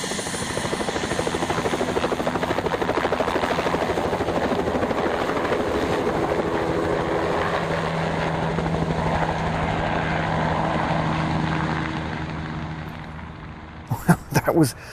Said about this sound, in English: So for the first time in a helicopter, and the door is off